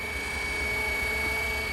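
A Flywing RC helicopter hovering in ATTI mode gives a steady, loud, close whine with a sustained high rotor tone and an even buzzing hum, unbroken and without talk.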